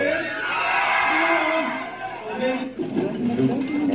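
A large crowd of fans at a Filipino KathDen celebrity appearance screams and cheers in a dense, loud, sustained roar with whoops and shouting voices that swell and ebb.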